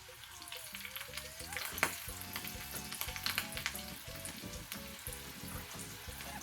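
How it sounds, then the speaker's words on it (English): Tacos sizzle and crackle as they shallow-fry in hot lard in a small pan, a steady close bubbling hiss with rapid popping, no voices. "I've got my lard heated up. We're going to shallow fry these tacos."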